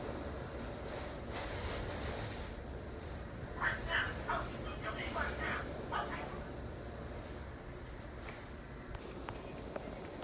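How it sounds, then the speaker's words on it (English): Heavy hurricane wind gusts roar steadily during Hurricane Ian's eyewall, a dense loud rush with swelling surges and brief rattling bursts midway. "I think it might go back out from this heavy gust of wind that's about to happen."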